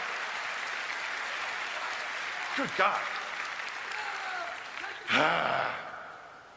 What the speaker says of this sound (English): Why don't you give yourselves another round of applause, guys.